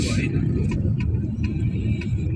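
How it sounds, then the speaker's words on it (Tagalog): Cars on a road near Tagaytay in Batangas give a continuous low engine rumble and road noise, heard close and steady throughout. "Kasi nandiyan yung mga sasakyan."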